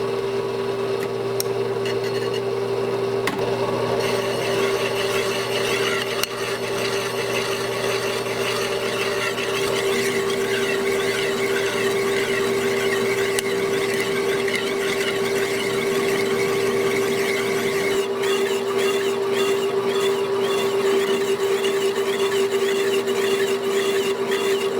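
A metal lathe turns slowly while a replaceable parting cutter cuts into a snowblower part, giving a steady, continuous tonal whine with grinding texture that holds throughout and shifts slightly near the end.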